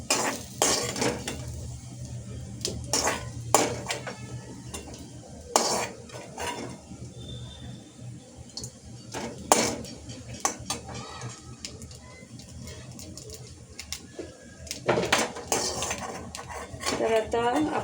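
Roasted grated coconut scraped from a pan onto a plate in a home kitchen, with scattered metallic clinks and scrapes of a spatula against cookware, close and irregular, between quieter pauses.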